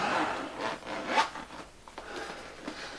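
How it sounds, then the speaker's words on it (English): Zippers on an etchr field case for sketching and plein air painting are drawn open in a few smooth, rasping strokes, close up and fairly quiet. "Zippers actually feel nice and buttery smooth"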